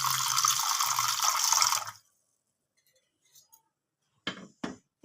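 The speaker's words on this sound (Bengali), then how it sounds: "এখানে আমি একটা বাটি নিয়েছি, বাটির মধ্যে আমি কিছুটা গরম জল নেব।" Hot water poured from a vessel into a bowl, a steady close pour lasting about two seconds, then a few faint clinks and two brief knocks of handling.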